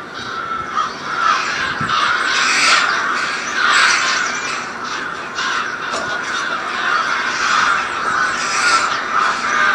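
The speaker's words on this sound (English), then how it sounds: "What's with the fucking crows?" A flock of crows caws loudly and continuously in a Game of Thrones scene, with dense overlapping harsh calls throughout and no talking.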